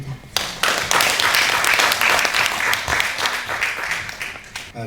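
An audience at a memorial ceremony for Dr. Lee Young-chun bursts into full applause after a short pause, a broad, sustained clapping that stays loud and then tapers off near the end.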